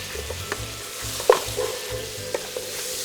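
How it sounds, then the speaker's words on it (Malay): Apple slices sizzle steadily in a pan while a utensil scrapes and stirs in repeated strokes, with small clinks, close up. "baru kita masukkan potongan apple yang sudah bersih tadi dan masak seketika sehingga apple tu sedikit layu"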